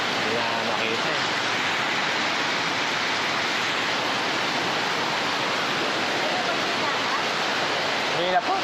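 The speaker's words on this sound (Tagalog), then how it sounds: "Lakas na naman ng ulan na sila oh." Heavy monsoon rain pours down during a habagat storm in a dense, loud, unbroken roar that fills the whole stretch, like a downpour thundering close by.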